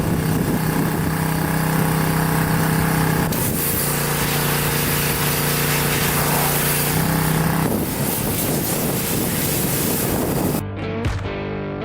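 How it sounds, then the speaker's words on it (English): Pressure washer spraying down an RM125 dirt bike, a steady loud hiss and hum of the pump and jet that shifts in tone as the spray moves over the bike, then cuts off near the end. "Let's get it pressure washed."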